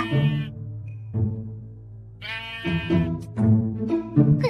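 Sheep bleat in a Minecraft animation, several loud nasal cries one after another at close range with no speech over them.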